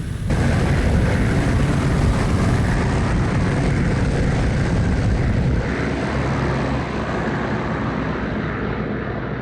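Twin engines of a He-111 bomber roaring steadily at full power during a takeoff roll in the IL-2 flight sim, a loud, continuous drone that holds throughout with no talking.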